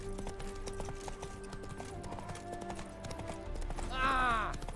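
Roach the horse in The Witcher 3 trotting with steady clip-clop hooves, moderately close over game music and ambience, with voices talking and a short rising call near the end.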